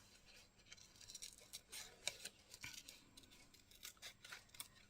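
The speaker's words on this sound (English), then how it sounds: "so I cut this flower out." Scissors snip through paper while a flower is cut out for a collage, giving a run of close, quiet, crisp clicks and slicing strokes in an irregular rhythm with no voice.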